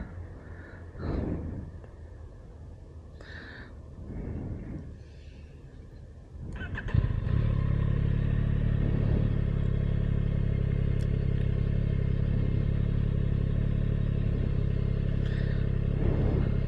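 A Yamaha MT-09 motorcycle rides at night, starting with a few quieter idle blips and low rumbles before the engine rises into a loud, steady cruising drone that holds to the end.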